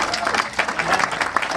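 A crowd in a speech hall applauds in brief, uneven bursts of clapping, with a few voices mixed in close by.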